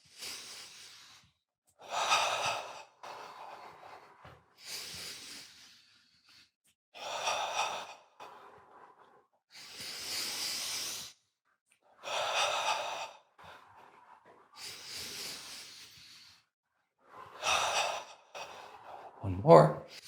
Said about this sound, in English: Notice his breath is getting longer because that's what happens.